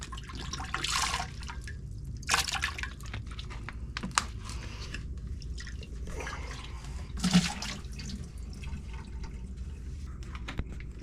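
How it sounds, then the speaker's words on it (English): Water is poured into a plastic whole-house filter housing and swirled around to rinse it, with sloshing bursts and drips close up. "So we'll put some more water."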